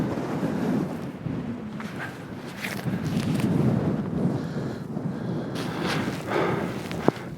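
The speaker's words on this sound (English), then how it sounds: "those gusts are strong, really strong" Strong wind on a Scottish hillside near Ben Vorlich buffeting a microphone in surging gusts, a deep roaring rumble that rises and falls, with a brief sharp knock near the end.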